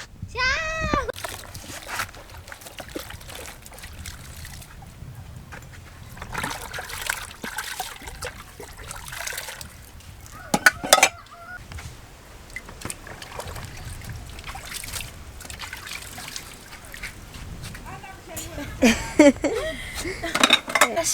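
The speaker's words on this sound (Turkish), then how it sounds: "Bulaşık yıkayacağım." Running water trickles and splashes while dishes and cutlery clink and clatter in a village in Mozambique, with occasional louder bangs and a faint voice now and then.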